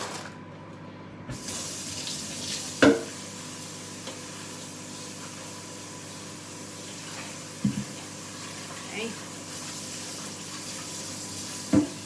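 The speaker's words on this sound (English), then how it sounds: "I fully submerse my leaves, give them a little swidge around" Salad leaves being washed by hand in a basin of water, with a quiet running-water wash in the background and a few brief splashes and sloshes scattered through, close and fairly soft.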